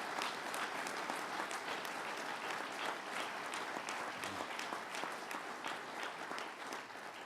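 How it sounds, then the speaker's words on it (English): Sustained audience applause at an announcement event in Utica, dense, steady clapping from a large crowd throughout, fading slightly toward the end. "Let's give a big round of applause to Dr."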